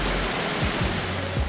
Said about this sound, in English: Victoria Falls. Also known as the Devil's Pool or the Smoke That Thunders by locals